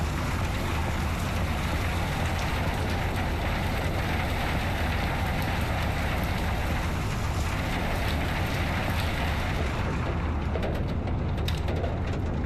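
Steady rain and wind over the open sea aboard a ship in the Seafarer: The Ship Sim game, a continuous broadband wash with low rumble throughout, no talk.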